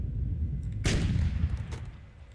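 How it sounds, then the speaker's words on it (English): Gunfire in the World War II strategy game Sudden Strike 3, a single sharp shot or blast cracking out partway through over a low rumbling battle backdrop, followed by a few fainter pops. "What the hell is shooting at me?"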